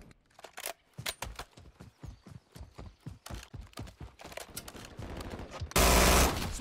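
Rapid gunfire bursts in the multiplayer shooter Call of Duty: Modern Warfare 3, sharp repeated shots crackling in quick succession, ending in a loud sustained blast of noise.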